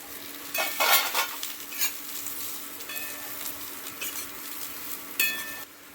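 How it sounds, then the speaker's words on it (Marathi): Onion roasting in a pan for a Marathi-style spicy egg curry, with steady sizzling and frying crackle, bursts of stirring scrapes and a few faint clinks of utensil on metal, close and moderately loud. "आता आपल्याला एक कांदा पण भाजून घ्यायचा।"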